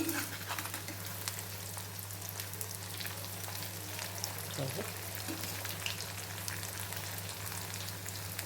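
Taro root pieces frying in a pan give a soft continuous sizzle like light rain over a steady low hum, with a brief stirring scrape partway through.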